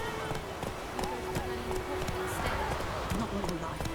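Horse galloping in The Witcher 3, a quick steady clip-clop of hooves under continuous game ambience and music, with a voice speaking over it.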